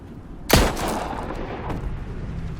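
A single sharp, loud gunshot in the video game Ghost Recon Breakpoint, striking hard and then fading into a long rumbling echo with no one talking.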